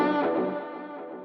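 An electric guitar lead tone through the Neural DSP Archetype Plini plugin rings out as a single sustained, distorted note that fades with a delay and reverb tail.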